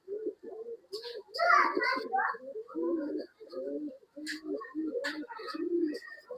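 Pigeons for sale in Bangalore coo repeatedly at close range in low, throaty bursts, with a few sharper higher calls mixed in.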